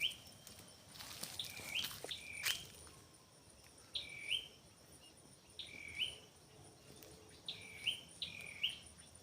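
Birds in a forest give short, high chirps in small repeated bursts every couple of seconds, fairly faint, over soft insect buzzing and a few light rustles.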